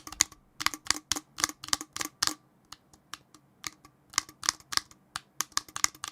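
Cherry ultra low profile switches on an Mpress Nano controller are pressed in quick bursts of sharp, close clicks, with two rapid clusters separated by a short pause.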